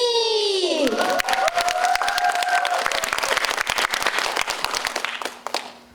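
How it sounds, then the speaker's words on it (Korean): Loud applause and cheering from the audience at a speech-class presentation as the final speaker is called up, with a musical flourish at the start, then sharp, close claps and shouts that fade away at the end. "마지막 순서인 만큼 더욱더 큰 박수가 필요하겠죠?"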